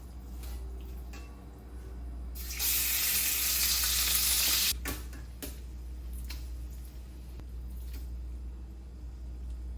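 Beef sizzling in olive oil in a pan, with a steady frying crackle that surges loudly for a couple of seconds when the meat goes in, then settles back to a lower sizzle with light stirring ticks.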